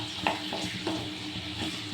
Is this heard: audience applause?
no